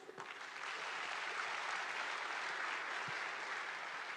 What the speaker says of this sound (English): Let's give us a round of applause, please.